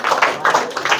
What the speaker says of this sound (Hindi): अरे भैया पहले जोरदार ताली बजाओ हर्षिता के लिए भैया